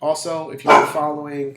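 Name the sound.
dog barking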